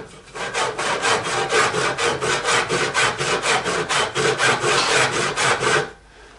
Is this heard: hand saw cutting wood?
yes